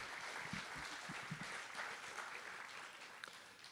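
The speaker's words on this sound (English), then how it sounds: "How about one more round of applause for Ruth Conniff?" Audience applause for Ruth Conniff at an AAUW community unity event, a steady wash of clapping from a seated crowd lasting a few seconds, moderately loud and continuous without speech.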